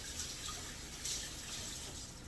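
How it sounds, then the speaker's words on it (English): Tap water runs steadily over a cutting board being rinsed in a kitchen sink, a continuous hiss that stays close and even throughout with no talking. "just rinse the cutting board off"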